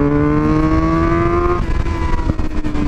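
A Suzuki GSX-R 750 sport motorcycle, ridden in second gear through a corner, gives a loud, close steady engine tone that shifts pitch partway through as the throttle opens, with some wind buffeting.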